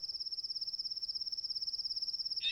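A cricket chirps in the grass nearby in a fast, evenly pulsed, high-pitched trill that continues without a break, alone against a quiet background.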